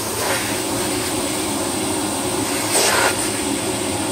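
A Miele vacuum cleaner runs steadily at close range, a loud, even broadband whoosh that holds for about four seconds with a brief surge in intensity near the end.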